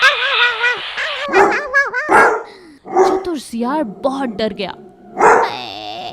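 Cartoon dogs bark and yip while chasing a clever jackal through a village, with short barks breaking in between lines of a narrator's voice, loud and close.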